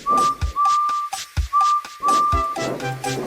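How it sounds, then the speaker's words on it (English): A high, steady steam locomotive whistle blows in a few sustained bursts separated by short gaps, loud and close, with thumps and rustling underneath. "Then the driver pulled the lever and Edward puffed away. And he blew his whistle."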